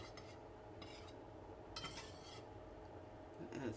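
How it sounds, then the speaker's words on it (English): A spoon scrapes and clinks against a pan while stirring melted mascarpone cheese sauce with parmesan, giving soft, intermittent scraping strokes at low volume. "And stir, stir, stir, stir, stir."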